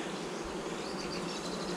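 A honeybee swarm buzzing in April at a home hive, a dense steady hum of many bees close by, with no other sounds.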